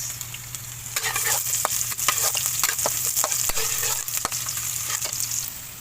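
Garlic and onion sautéing in a pan while cooking laing, a loud steady sizzle overlaid with frequent sharp scrapes and clacks of a spatula stirring against the pan, near and busy throughout.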